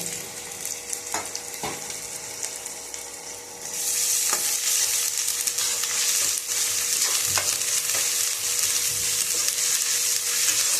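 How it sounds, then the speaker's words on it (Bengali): Grated garlic and ginger sizzling in a pan over high flame as a spatula stirs them, scraping clicks over a steady hiss that grows louder and brighter partway through, no speech. "এবার এটাকে এর সঙ্গে আমি হালকা করে নেড়ে চেড়ে নেব।"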